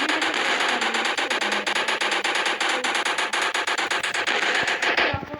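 A minigun in a Grand Theft Auto video game fires in one continuous, rapid mechanical stream of shots, loud and close, running for several seconds before cutting off abruptly.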